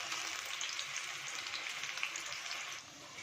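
Onion, potato and spinach bhaji fry in hot oil with a soft, even bubbling hiss that stays steady and fairly quiet before dropping away near the end, with no voices over it.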